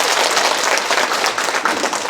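A hall full of residents and geology experts at a public hearing on national geopark certification breaks into steady, dense applause that fills the room at even loudness throughout.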